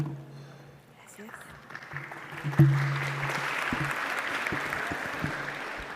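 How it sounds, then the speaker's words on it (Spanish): Audience applause at a conference session on public-sector accounting standards, a steady mid-level clapping texture that builds and holds under a speaker's voice. "Todavía no empiezo y ya me están aplaudiendo."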